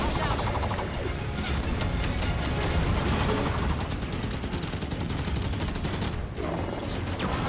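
Sustained gunfight in the video game Halo 5: Guardians, with dense rapid bursts of automatic fire and crashing impacts running loud and continuous throughout, while a voice speaks over parts of it.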